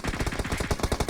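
Automatic gunfire in the mobile battle-royale game PUBG Mobile: a rapid, steady stream of loud shots fired in quick succession, continuous and close, with no voices over it.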